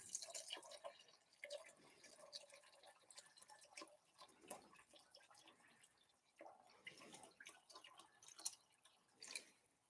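About half a gallon of water is poured into a pot of Boston baked beans, making faint, irregular splashes and drips that run on for several seconds with no talk.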